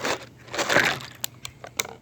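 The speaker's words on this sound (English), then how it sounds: "Then just dump it over in some water." A de-galvanized steel piece dumped from acid into water for rinsing; a rushing splash and slosh up front, then a few sharp clinks and drips as it settles, fairly close and alone.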